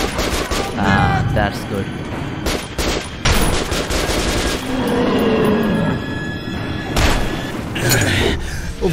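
Gunfire in Metro 2033 Redux, loud bursts of shots and booming impacts scattered through a frantic fight, with shouting voices over the top.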